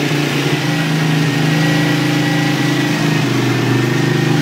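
A 1982 Honda CX500 two-cylinder motorcycle engine runs steadily at idle, a close, loud, even mechanical throb that holds for the whole stretch with no voices over it.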